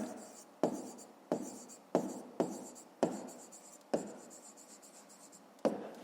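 A pen or pencil writes a math solution by hand on paper, close and quiet, in a run of short strokes separated by sharp taps as each stroke begins, with no speech.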